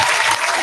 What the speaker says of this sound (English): I'm gonna clap for y'all again.